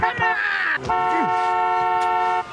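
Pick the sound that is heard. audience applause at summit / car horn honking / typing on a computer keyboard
car horn honking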